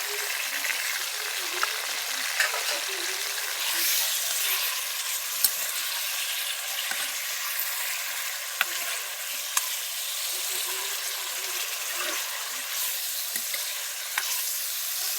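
Chicken karahi sizzling steadily in a pan with garlic paste and tomato, a bright continuous fry hiss broken by occasional faint clicks of a stirring spoon, with no talking.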